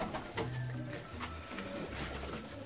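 Fancy pigeons coo at bath time, with low, soft repeated coos close by over splashing and background noise.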